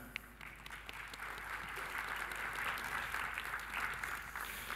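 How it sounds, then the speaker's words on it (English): Soft, somewhat distant applause fills a seminar hall, a steady patter of many hands clapping that swells slightly midway and continues without speech over it. "Give an applause for that."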